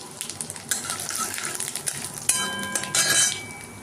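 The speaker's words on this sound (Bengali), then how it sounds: "একটু ভেজে নিই।" Ingredients for vegetarian ghugni, including bay leaf, grated ginger, mashed boiled potato and green chilli, frying in a pan, with a bright sizzle, clanking pan and utensil sounds, and stirring, close and fairly loud.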